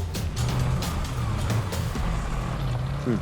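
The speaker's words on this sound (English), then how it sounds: "So I heard a slight ATV motor." A distant ATV engine drones steadily in the Romanian backcountry, a low continuous hum that runs the whole time without clear revving.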